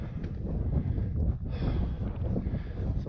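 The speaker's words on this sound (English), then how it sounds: "It's the wind." Gusty wind rushes across a mountain ridge, a dense low roar buffeting close to the microphone with a brief lull partway through.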